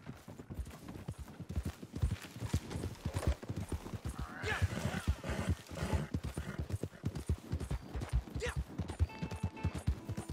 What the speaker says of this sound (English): I'm getting on my horse. I'm on the road.